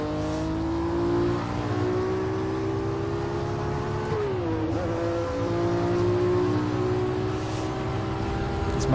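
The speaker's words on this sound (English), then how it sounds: "Is my voice understandable with this noise of this car?" Race car engine in the Automobilista VR racing game, a Ford GT-era car at Sebring, droning steadily at high revs with a brief dip and recovery as the driver brakes and shifts.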